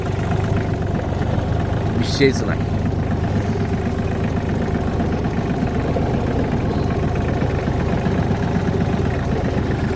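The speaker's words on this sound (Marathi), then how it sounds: "तो ट्रॅक्टर फिरून घेऊया" A tractor engine runs steadily while levelling damp farm ground, a continuous mid-to-low drone close by throughout, with a person speaking briefly over it.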